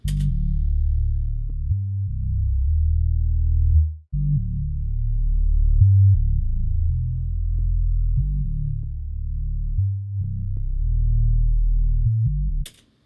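A deep, looping bassline plays alone, EQ'd and chorused, for a dark R&B loop, its low tones shifting in a repeating pattern with a gentle wavering quality and clean, rounded tone.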